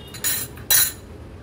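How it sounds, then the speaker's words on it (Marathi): A metal pot set down on a gas stove and then covered with its lid: two short, bright metallic clanks close by, about half a second apart, with no talking. "गॅसवर मी हे भांडं ठेवते आणि याच्यावर झाकण ठेवूया।"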